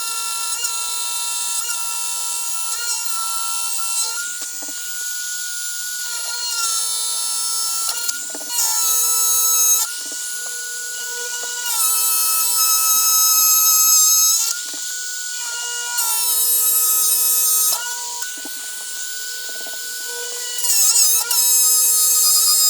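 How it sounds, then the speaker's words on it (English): Dremel rotary tool cutting out wooden accents for a bear skull plaque hanger, a loud continuous high-pitched whine that rises and dips in pitch as the bit loads and frees up, running steadily throughout with no talk. "So I'm just gonna cut these out with the Dremel right now."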